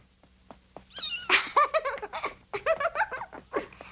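A cat meows in a rapid run of short, wavering cries, close and fairly loud, with brief pauses between bursts.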